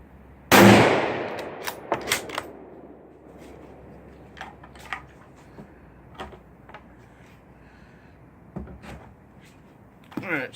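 A Remington 783 bolt action rifle in .243 fires a single loud, sharp shot near the start, followed by fainter clicks and knocks of the bolt being worked and handling noises, then quiet.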